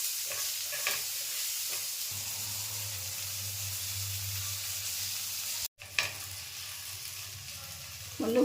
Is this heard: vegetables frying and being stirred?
yes